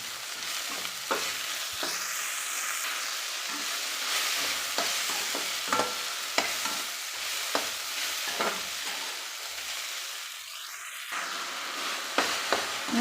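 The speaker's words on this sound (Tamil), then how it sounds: "நல்லா காய் வணக்கி விட்டு வணக்கி விட்டு வேக வச்சுக்கலாம்" Okra stir-fried in a pan: a steady close sizzle under repeated scraping and tapping strokes of a spoon stirring the vegetables.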